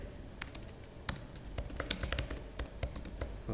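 Computer keyboard typing in quick uneven runs of close, crisp key clicks with a few louder taps, steady throughout with no voice present.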